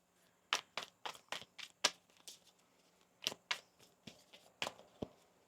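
A deck of tarot cards being shuffled by hand in a series of sharp, crisp riffles and snaps, about a dozen quick bursts in an uneven rhythm, close and fairly faint against a quiet room.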